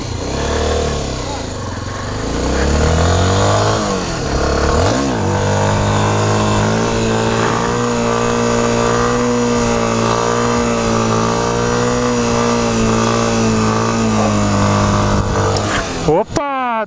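A motorcycle engine idles and revs repeatedly, its pitch rising and falling in surges, loud and close, ending with a few clicks.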